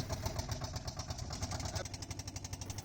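A boat engine chugs in a steady rapid pulse, running close and continuous, with a slight change in pitch partway through.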